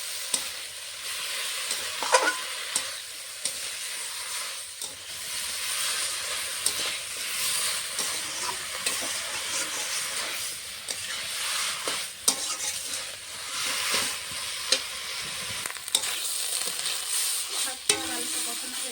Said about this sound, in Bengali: এটাকে ভালো করে এখন কষিয়ে নেবো